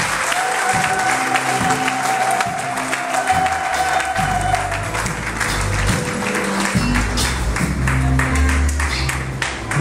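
A church congregation at a pastor's 20-year ministry celebration applauds steadily and loudly for about ten seconds, a dense wash of clapping over low sustained tones.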